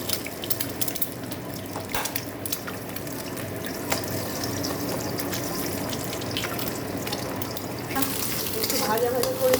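An egg frying in a pan over a curry-cooking setup hisses and sizzles steadily, with clinks of stirring and a watery wash underneath, growing slightly louder toward the end.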